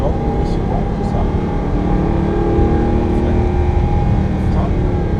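Audi R8 engine under progressively increasing throttle, a steady dense drone heard from inside the car that stays loud and even throughout, with no clear rise in pitch.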